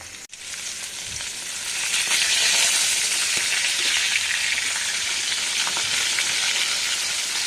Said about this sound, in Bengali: মাছটা এবার হালকা লাল করে এপিট ওপিট দুপিট ভেজে নেব।